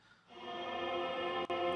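A sustained, lush wash of reverb tail from a 480 Canyon preset smears a held vocal-like tone into a long, even, spacious bloom. It is quiet and continuous, with a brief dip near the end.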